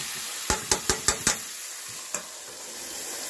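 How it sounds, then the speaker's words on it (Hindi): Boiled bottle gourd tipped into a pan of garlic and green chili frying, five quick metallic spoon clacks in a row, then one more, all over a steady sizzle. "लहसुन और हरी मिर्च पक गई है, अब इसी में लौकी डाल देंगी जो उबाल के रखी हुई थी"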